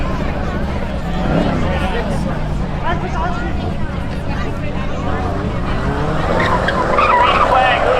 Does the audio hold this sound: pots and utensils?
no